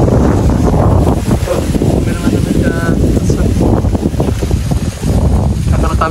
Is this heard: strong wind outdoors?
yes